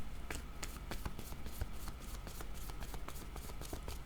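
Tarot cards being shuffled by hand in a steady run of soft riffling flicks and slaps, close and fairly quiet, with no talk over it.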